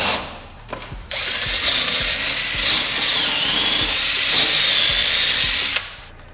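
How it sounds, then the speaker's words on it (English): Power drill boring a new hole through a steel jack mount for a skid plate, a sustained high whining grind that starts abruptly, holds steady for several seconds, then cuts off. "So I had to drill a new hole"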